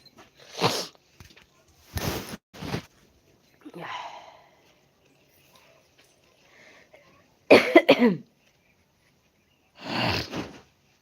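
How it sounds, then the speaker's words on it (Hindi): Several harsh coughs come in separate bursts with pauses between, close to the microphone, with faint voices murmuring in the gaps. "आपको खांसी हो रही है दीदी?"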